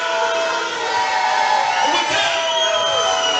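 A boxing-match crowd roars and cheers continuously, loud and dense with shouts and whoops rising over the arena, and a commentator's voice is faintly mixed in.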